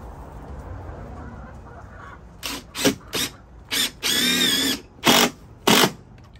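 Cordless power drill driving 4-inch screws into a chicken coop ramp in several short whirring bursts, one longer run in the middle, loud and close, with faint chickens in the background before the drilling starts.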